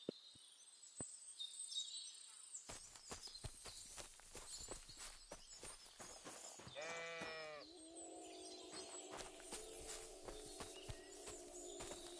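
A sheep bleats once in a wavering call in the video game Kingdom Come: Deliverance 2 on PS5 Pro, amid steady footsteps on the ground and soft outdoor ambience.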